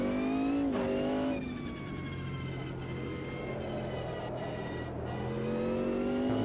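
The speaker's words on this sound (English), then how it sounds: "Sounds good with the transmission sounds on the overrun." Race car engine in the Automobilista 2 racing game, revving high and dropping back on overrun with transmission whine, heard loud and continuous across the clip, the pitch sweeping down and then climbing again.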